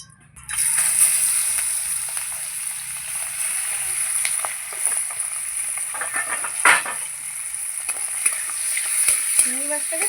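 Shrimp, rubbed with salt and turmeric, frying in hot oil in a pan: a loud, steady sizzle starts abruptly and holds throughout, with a few sharp spatters and pops over the hiss.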